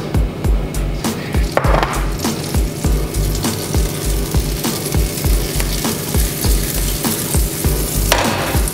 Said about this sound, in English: We start with buttering up the pan